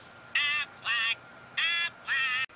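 An Aflac duck toy quacks four times in an even rhythm, each quack a loud, harsh, buzzing squawk about a quarter second long, sounding close and alone with no voices.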